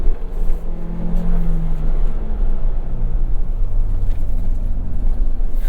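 Engine and road roar inside a 2023 Ford Bronco Heritage with a seven-speed manual, lapping a track, a loud continuous low drone with shifting tones and no talking.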